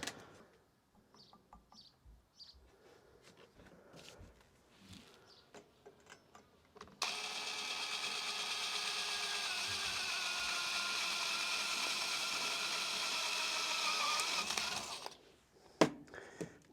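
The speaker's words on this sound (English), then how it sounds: "I find when you're drilling steel, the key is not to go too fast" An electric drill with a sharp bit bores into steel for a water tank bracket on a 1975 Viscount Ambassador caravan, a steady high whining grind lasting about eight seconds after some quiet handling knocks, then stopping with a clunk.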